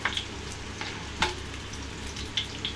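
Garlic added to hot oil in a pan for a Telugu ridge gourd and sesame curry, sizzling faintly and steadily with a few soft stirring clinks close by.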